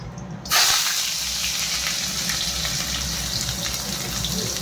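Chopped onion and green chilli drop into hot oil already sizzling with cumin seeds, bursting into a loud, steady hiss that holds evenly from start to finish with no voices.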